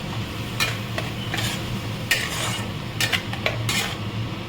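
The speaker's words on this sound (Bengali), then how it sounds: "এবার এটাকে আমি কিছুক্ষণ কষাবো।" Cumin and coriander powder masala being stirred and sautéed in a pan for chicken, with several sharp scrapes and clinks from a metal spoon over a constant sizzle close by.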